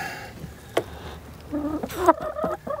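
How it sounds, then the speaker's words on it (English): Backyard hens cluck and squawk close by in a winter coop, a sharp call early on followed by a busy run of overlapping clucks. "The chickens have taken to pulling all the nesting material out."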